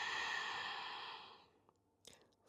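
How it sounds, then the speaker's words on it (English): Slow, steady exhale during a core breathing exercise, a soft airy breath that fades out over about a second and a half, followed by quieter faint breath sounds, close and alone. "and exhale."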